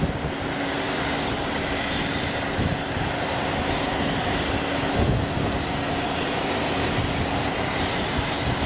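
An aircraft lands at Boeing Field, King County International Airport, with a loud, continuous engine roar that stays steady and close throughout.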